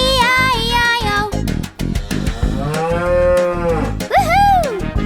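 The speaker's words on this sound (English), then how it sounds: "And on his farm he had a cow, E-I-E-I-O." A cartoon cow moos in a children's farm song, long drawn-out sung moos over a bouncy musical accompaniment, loud and close, with a rising and falling pitch.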